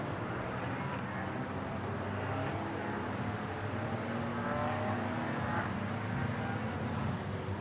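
A field of GT4 race cars at the Nürburgring heads toward the chicane, producing a continuous blended roar of engines at a distance with shifting pitch as the cars pass.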